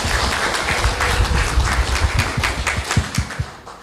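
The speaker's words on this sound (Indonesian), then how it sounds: "kasih tepuk tangan dulu" Students at a vocational high school clap together in a room, a close, lively patter of hands with uneven thumps, fairly loud and fading slightly toward the end.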